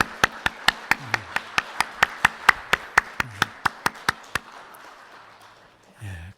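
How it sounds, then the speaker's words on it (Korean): A church congregation at a university church Sunday service claps in unison, about seventeen crisp evenly spaced claps in a steady rhythm that stop abruptly, followed by a quiet room murmur. "박수로 한번."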